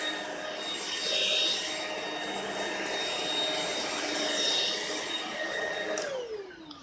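A Shark Rocket vacuum cleaner running on a rug or bare floor, a steady loud motor whine with airy rushing that swells slightly, then drops in pitch as it winds down near the end.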